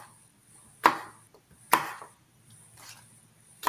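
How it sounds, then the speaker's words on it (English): A knife cuts fruit and vegetables into small pieces on a board before juicing, with a couple of sharp, close thuds and softer cuts after them. "I am trying to cut up things rather small"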